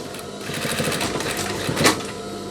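A sewing machine runs steadily with a dense mechanical whir while stitching the sleeve seam of a denim jacket, the hum continuous and close with a slight swell near the end.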